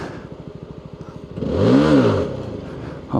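A CFMOTO 250SR sport motorcycle idles with a rapid putter, then revs sharply upward for a wheelie attempt and falls back, loud and close, with a brief burst at the end.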